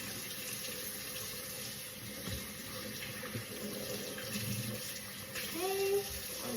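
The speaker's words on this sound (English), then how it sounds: "I'll wash my hands." A kitchen tap runs steadily while hands are washed under the stream, a close, continuous hiss of flowing water with faint splashing and no break.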